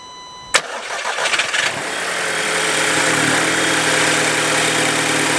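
An Audi TT Mk2 8J fitted with an induction kit cold-starts: a sharp click, a brief cranking stutter, then the engine catches and settles into a loud, steady, close idle with a broad intake hiss.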